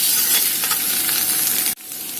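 Boiled black chickpeas stirred and cooking in a hot pan give off a loud, steady sizzle and hiss that cuts off abruptly near the end.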